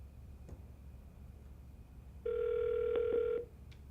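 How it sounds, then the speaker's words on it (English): An office desk phone gives a single sustained electronic tone lasting about a second, with faint clicks around it in an otherwise quiet room and no talking. "To place an outbound call, you need to dial 8 before you dial a 10-digit number."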